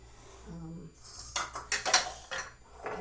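A spoon scrapes and knocks through stiff Irish soda bread dough in a mixing bowl, with several close, irregular bursts of scraping getting heavier as the dough thickens.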